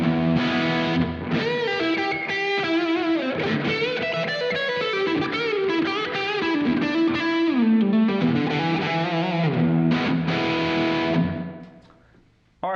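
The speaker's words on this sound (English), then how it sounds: "Built-in digital reverb. I've got it on just to splash at the moment about 12 o'clock." Distorted electric guitar plays through a Blackstar St James 6L6 combo amp with the built-in digital reverb turned up, a busy riff of chords and lines washed in reverb, ending in a fading tail.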